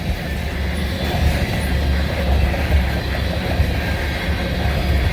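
Diesel train rolling along the B & O railroad at a good clip, a steady low rumble with faint wheel clatter, close and continuous.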